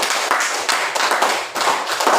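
Classroom listeners clap their hands in a brisk, continuous round lasting a couple of seconds, loud and close, with a few stronger beats standing out.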